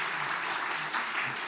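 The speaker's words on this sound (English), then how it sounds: "A big round of applause for Sumati." Brief burst of applause, many hands clapping together in a dense, steady wash for a moment.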